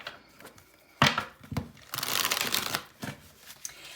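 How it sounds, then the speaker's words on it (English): A tarot card deck is shuffled close by in several crisp riffling bursts, the longest near the middle, separated by soft taps and handling noise. "So we're just gonna shuffle the deck a little bit."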